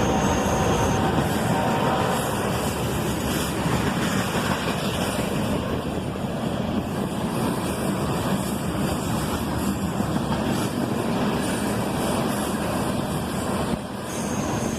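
A CSX manifest freight train led by a single ET-44AH locomotive rumbles past in a steady, continuous roar with a constant hum on top, loud and unbroken throughout.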